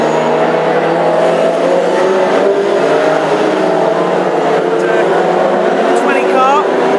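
Mark I Escort race cars battling in a classic race at Northampton, a steady loud engine drone with shifting pitch throughout, a commentator talking over it.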